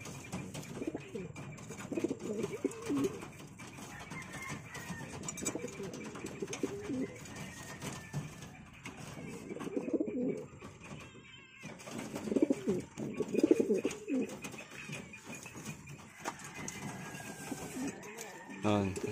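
Pigeons cooing in repeated low, rounded bursts close by, with a person talking intermittently and faint background noise.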